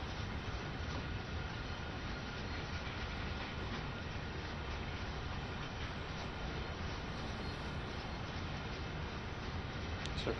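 A DB G6 shunter locomotive rolls along at low speed in Train Sim World 2, a steady loud rumble of wheels and engine with faint rail clatter, continuous and unbroken.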